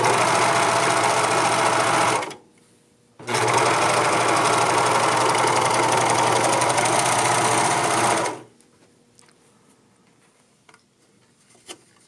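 Serger overlock machine finishing a seam on a tunic, two fast whirring runs close by with a short pause between, then quiet handling noises afterward.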